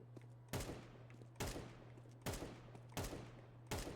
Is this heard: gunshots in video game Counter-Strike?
yes